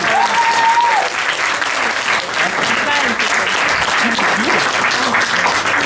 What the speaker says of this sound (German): dann bitte jetzt euer Applaus für Armin Schlegel